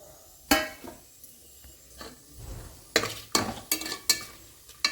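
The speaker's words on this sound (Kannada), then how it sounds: "ಎಣ್ಣೆಲಿ ನೀಟಾಗಿ ಫ್ರೈ ಆಗಲಿ" Cashews with whole spices like cardamom, cinnamon and cloves frying in oil for ghee rice, a soft sizzle under a run of sharp spatula and pan clinks, close by with no voices.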